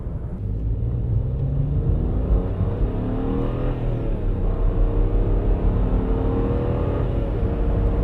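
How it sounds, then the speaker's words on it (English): A BMW 335i downshifts and accelerates hard at high RPM up a freeway on-ramp, its engine giving a loud, continuous rumbling roar that rises steadily in pitch, heard from inside the car with no talking. "I like these freeway on-ramp pulls because then you can downshift and really put heavy load, high RPM."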